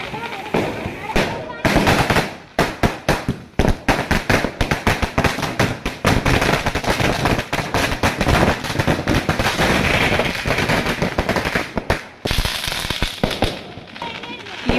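Firecrackers burst at houses along the streets of Kallentumkara, rapid dense strings of loud cracking bangs, close and continuous with brief gaps, while people talk nearby.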